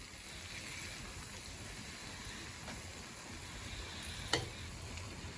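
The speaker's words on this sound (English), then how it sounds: "Oh, listen to that sizzle." Deer hash sizzles and crackles in a pan in a cabin kitchen, a soft steady frying hiss with one brief sharper clink near the end.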